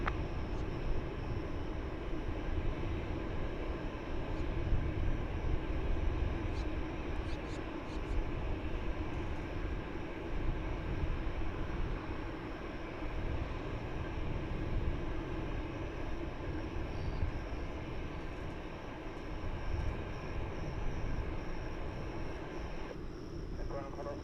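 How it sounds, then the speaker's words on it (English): Boeing 747 jet, eight years old, taking off at Dallas/Fort Worth Airport: a steady, broad engine roar that holds for the full stretch at moderate distance, with no break in the sound. "It's an 8-year-old 747"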